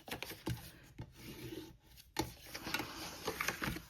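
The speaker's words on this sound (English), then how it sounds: "So we're gonna fold and burnish" Score marks on a paper fragrance box are folded and burnished, giving close, soft rubbing and scraping strokes with a few sharper paper creases, uneven and fairly quiet.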